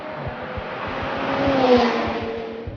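Engine and exhaust of a 2017 McLaren 720S, a steady loud drone with a rising, swelling pitch and a rapid low pulsing, building toward the middle then easing slightly, with no talk over it.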